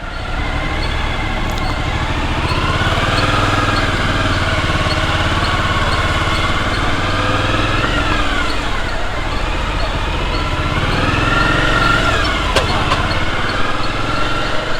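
A moped carrying two riders weaves through Naples traffic, its small engine droning steadily and continuously, the pitch rising and falling as it slows and speeds up.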